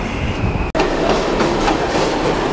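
A train rolls along steadily with continuous rumbling wheel and rail noise, a brief dropout early on, no voices, heard from inside or near the moving train on a cold day.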